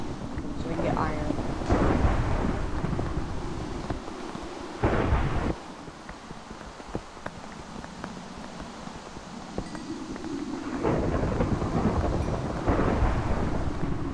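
Thunderstorm with rain in Minecraft: a steady hiss of rainfall runs throughout, broken by several loud rumbling thunder crashes near the start, middle and end, with a voice talking faintly underneath at times.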